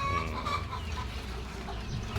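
Chickens clucking close by in a steady low chatter, ending with one sharper squawk.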